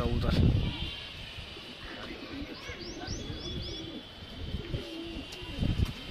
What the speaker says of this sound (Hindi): कबूतर बहुत छोड़ लिया माशाल्लाह, जावेद का जवाब नहीं कबूतर का।